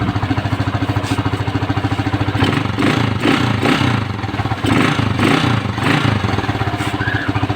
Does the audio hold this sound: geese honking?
no